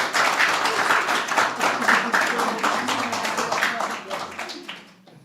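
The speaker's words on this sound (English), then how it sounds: "huge round of applause." An audience at an evening art exhibition and book launch gives a warm round of applause: dense, steady clapping from many hands that tapers off over about five seconds.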